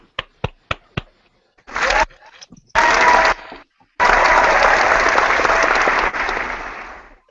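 A canned applause sound effect triggered from a button at an informal football awards ceremony: a few sharp separate claps, then loud bursts of recorded clapping that cut in and out before one long sustained stretch, with no talking.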